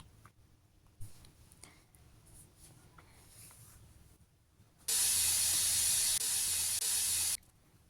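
A pressure cooker cooking country-style chicken sambar on the stove releases one loud, sustained burst of hissing steam lasting a couple of seconds, preceded and followed by quiet kitchen background.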